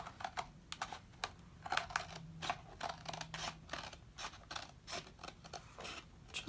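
Scissors trim paper for a file folder envelope in a junk journal, producing a close, quiet series of crisp clicking snips at an irregular rhythm.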